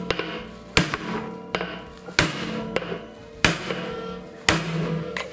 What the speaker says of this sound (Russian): Выбивается барабан из бака обязательно через медную прослойку